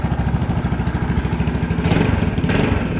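A Yamaha Nouvo motorcycle engine, cold after a one-click push-button start, idles with a loud, close, steady rhythmic chugging that runs throughout.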